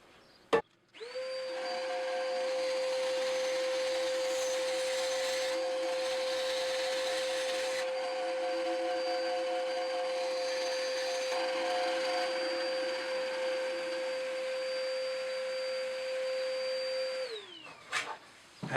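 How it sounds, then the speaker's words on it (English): A workshop dust extractor runs during woodworking, switching on with a click and droning steadily with a constant hum and whine for about seventeen seconds before winding down and cutting off. "Bit of dust extraction, please."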